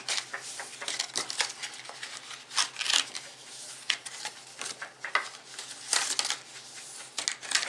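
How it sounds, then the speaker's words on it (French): Book pages being creased into mountain folds for a binding give off a close run of dry paper rustles and crisp scraping strokes in irregular bursts, with no talk. "Je vais plier, donc marquer les plis, tous les plis du côté montagne dans un premier temps."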